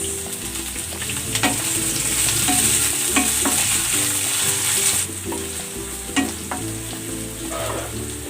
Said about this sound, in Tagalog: Igisa na rin natin tong sibuyas.